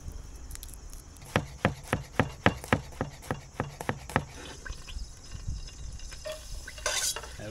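A knife chops garlic on a cutting board for a crab bisque, about a dozen steady, evenly spaced chops close up, then a few softer kitchen clatters and handling sounds.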